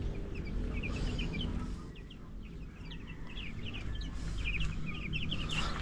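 Several chickens cluck softly and intermittently against a low, steady background rumble, somewhat distant.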